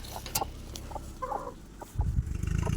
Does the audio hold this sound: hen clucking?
yes